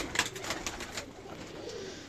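Black-feathered Teddy pigeons give low, murmuring coos nearby, broken by a few light flutters or taps early on, with a quiet ambient hum underneath and no voices.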